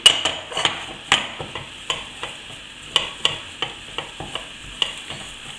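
A utensil stirs and presses choux pastry dough in a saucepan over heat to dry it out, giving a rhythmic series of close, sharp knocks and scrapes against the pan under a faint sizzle, with no voice.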